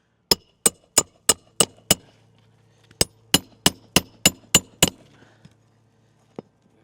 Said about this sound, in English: let's begin nailing the shingle